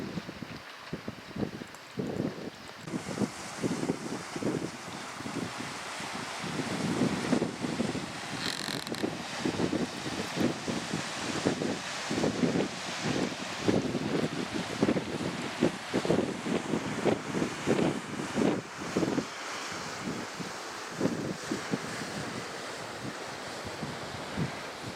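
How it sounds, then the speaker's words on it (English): Waves crash steadily against rocks on a windy Welsh coast near St David's, with loud surf surges and gusts of wind buffeting the microphone throughout. "the sound of waves crashing on the rocks is one of the main songs of the sea"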